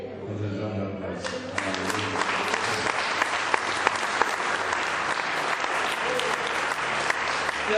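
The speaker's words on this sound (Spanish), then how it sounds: "Nos le da un aplauso." Church congregation bursts into sustained applause after a brief quiet moment, with dense, continuous clapping from a large crowd that stays loud and even until the end.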